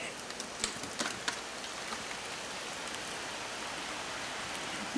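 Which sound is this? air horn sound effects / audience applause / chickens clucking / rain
rain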